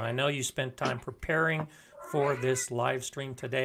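A cat meows faintly in the background while a person talks steadily in the foreground.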